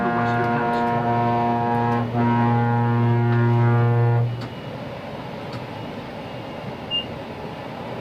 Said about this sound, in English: You guys use your horn a lot.